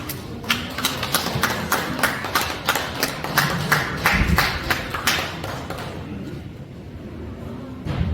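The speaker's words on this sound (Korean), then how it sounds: "박수 부탁드립니다." An audience at a May 18 seminar and book launch applauds as a speaker is introduced, a stretch of clustered claps that thins out and fades toward the end.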